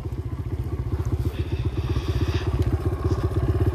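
Dirt bike engine revving hard to lift into a wheelie, a loud, close, continuous pulsing motor drone with rapid rhythmic firing that swells slightly toward the end.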